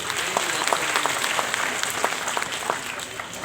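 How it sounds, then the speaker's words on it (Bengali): An audience at an RFL Family Day 2021 morning gathering, where people had laid flowers at an altar, gives a sustained round of applause, dense and even with a slightly distant, roomy quality. "সবার জন্য একটা জোরে হাততালি।"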